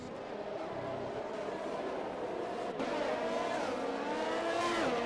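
Formula 1 cars racing in an F1 video game at the Russia circuit, engines revving and whining at high pitch with gear-shift changes, a steady moderate roar throughout.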